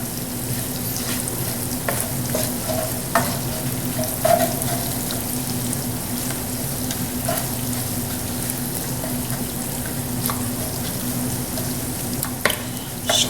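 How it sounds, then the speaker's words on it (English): Bacon bits crisping in a pan for shrimp and grits, a steady close sizzle and crackle with occasional scraping stirs and faint clinks, no talking. "now that this bacon's fried up, crisp up just for a minute more here"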